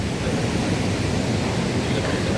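A continuous, fairly loud rush of surf washing on Velneshwar beach, steady throughout with no distinct breaks.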